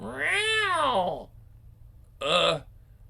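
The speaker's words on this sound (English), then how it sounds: "Friggin' cat's sure scared of something." A frightened cat lets out a long, rising-and-falling wailing meow followed by a shorter second meow, both close and loud.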